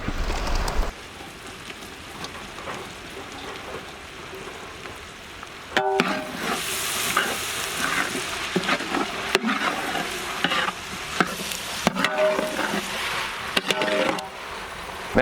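Cauliflower being stir-fried in a pan for vegetable biryani, with a steady sizzle and repeated scraping stirs that grow louder and busier after a quiet opening stretch, no talking.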